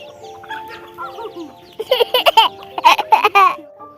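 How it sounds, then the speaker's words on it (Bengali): A series of short, chattering clucks from chickens close by, starting after a quieter stretch and coming in quick bursts. "দেখো মুরগিগুলো দেখো যেই বসেছি পেছনে ঘুরঘুর ঘুরঘুর করছে"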